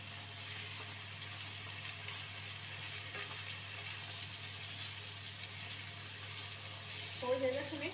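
Chicken keema with tomatoes and onions fries in oil in a pan, giving a steady, even sizzle close up, with a voice speaking over it near the end.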